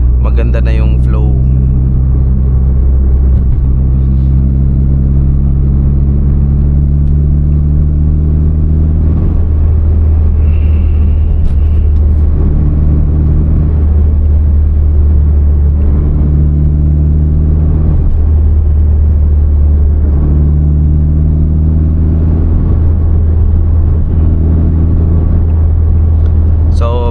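A turbocharged Honda City's engine and exhaust drone heavily from inside the car on an elevated expressway, a loud low rumble that swells and eases with repeated gear changes while someone talks over it.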